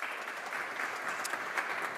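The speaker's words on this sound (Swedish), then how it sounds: "Välkommen upp, en varm applåd." Warm audience applause welcomes a speaker onto the stage at a public hearing, a brief, steady patter of many hands at moderate volume.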